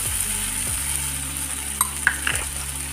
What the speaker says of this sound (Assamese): এতিয়া মই ইয়াতে কাটি লোৱা বিলাহী দুটাও দি দিছোঁ। ভালদৰে লৰাই দিছোঁ।